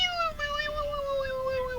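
A voice imitates the Chirithy summon noise from Kingdom Hearts, producing a single close, drawn-out, wavering meow-like cry that slowly slides downward over nearly two seconds.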